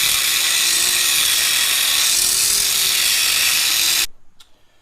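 A power tool cuts quarter-inch steel tabs from shop scraps: a loud continuous high-pitched whine with a steady grinding edge that stops abruptly near the end, leaving a brief faint rattle.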